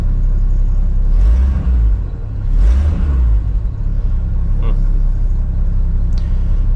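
Ford straight-six engine running just after starting, a close, deep idling rumble with a couple of swelling rev surges, and brief voices in between.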